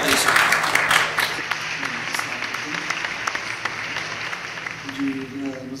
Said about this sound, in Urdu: آپ کی بھرپور تالیوں میں